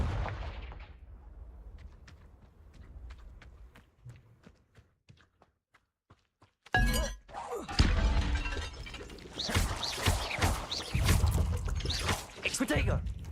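A Confringo blasting spell in Hogwarts Legacy sets off a sudden loud burst after a stretch of faint clicks, followed by a run of crackling, shattering impacts with a voice mixed in.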